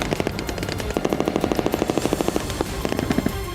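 Navy sailors fire machine guns over the sea in loud, rapid bursts of closely spaced shots, with brief pauses between rattling volleys.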